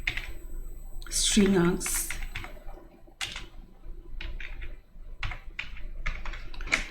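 Computer keyboard typing Java code, bursts of quick close clicky keystrokes with pauses between, while someone talks over the typing.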